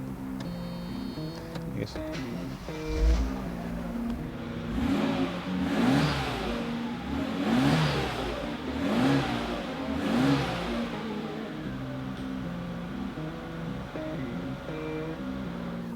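1992 Mercedes-Benz 300SL Roadster engine cranks and starts, then idles with four or five rising-and-falling revs in steady rhythm, close and fairly clear, before settling back to idle; a voice speaks briefly at the start.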